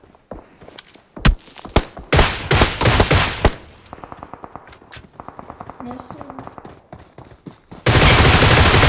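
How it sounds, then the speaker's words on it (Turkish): Gunfire in the PUBG Mobile video game on the Erangel map: loud bursts of shots and rapid automatic fire, with footsteps and thuds mixed in and a dense burst at the end. "Ha karşıdan sıkıyorlar."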